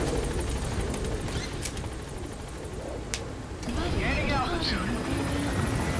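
A helicopter's steady rotor drone in Metal Gear Solid V: The Phantom Pain fills the background throughout, with a few sharp clicks and bursts of game sound effects layered over it.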